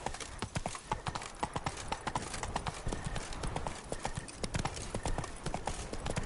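Hooves of Roach, the horse in The Witcher video game, clip-clop in a steady, close, continuous rhythm throughout, with no pause between strides.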